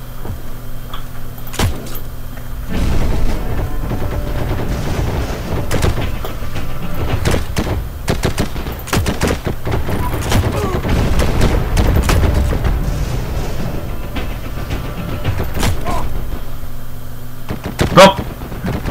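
Scattered gunshots ring out in Heroes & Generals, a World War II online shooter, sharp isolated cracks spread over a continuous rumble of battlefield and vehicle noise, some close and loud, others distant.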